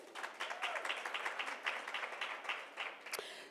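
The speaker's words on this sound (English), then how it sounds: "Let's get a round of applause for both ladies." Audience applause at a women's breakaway session for two ladies, a steady wash of many hands clapping at moderate distance, fairly quiet and continuous throughout.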